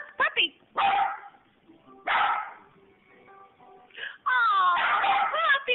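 A dog barks and yelps several times in bursts, ending in a drawn-out whining howl, with gaps of quiet between.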